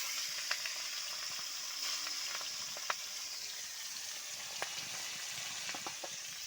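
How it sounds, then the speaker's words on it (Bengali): Fish frying in very hot oil, a constant bright sizzle with occasional sharp pops and spatters, fairly close and even throughout. "তেলের মধ্যে মাছগুলো দিয়ে দেবো ভেজে নেবো মাছগুলো"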